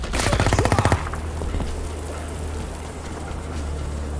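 Gunfire in the military game Project IGI at an airbase: a rapid, loud burst of about ten shots in the first second, then a steady low rumble of background game ambience with no further shots.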